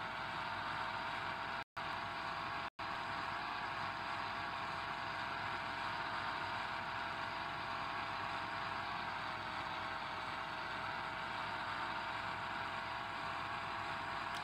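A 705-horsepower turbo diesel engine in a Chevy C10 truggy from the game Offroad Outlaws, a steady synthetic drone as the truck crawls slowly, with two brief dropouts near the start.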